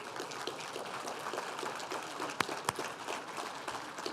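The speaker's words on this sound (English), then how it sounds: "How about one more big round of applause for Mr. Alvin Turner?" A crowd applauds performer Alvin Turner at Gateway Technical College's Dr. Martin Luther King, Jr. celebration: steady, dense clapping fills the room, with two sharp louder claps standing out midway.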